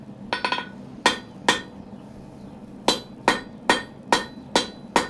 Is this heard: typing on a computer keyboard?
no